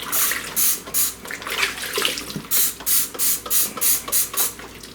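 Water sprays in short, rhythmic bursts over sofa pillows in a tub, with about a dozen loud hissing pulses in quick succession.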